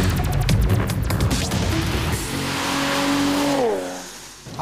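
A Nissan 370Z engine accelerates hard, pitch climbing steadily before easing off, loud and close with no voices.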